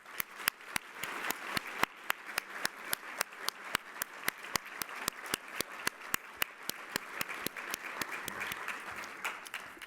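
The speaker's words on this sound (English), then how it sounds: "Please join me in a big round of applause to show our gratitude and appreciation to Ted" Luncheon audience at the Economic Club of Indiana applauding Ted, steady clapping from a room of people with some sharp individual claps standing out near the microphone, continuing throughout before tapering slightly at the end.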